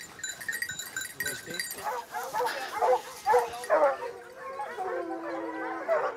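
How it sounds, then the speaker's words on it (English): A pack of hunting dogs bays on a scent during a wild boar hunt in France: several overlapping yelps and howls at middle distance, rising and falling in bursts, with people talking beneath. "Il y a des chiens qui se récrient un petit peu, des chiens qui ont connaissance de la voix"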